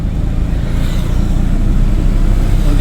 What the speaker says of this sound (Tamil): வண்டி ஸ்பீடாகிடுச்சு